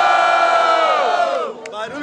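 Audience at a student rap battle in Guarulhos, São Paulo, cheering and shouting in a loud sustained roar that fades over two seconds, with a few voices rising near the end.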